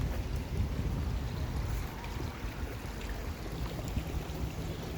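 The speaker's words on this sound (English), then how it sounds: "This water feature." A hotel water feature at the Kahala Hotel in Hawaii, giving a continuous low rushing and splashing wash, steady and fairly faint, with no voices.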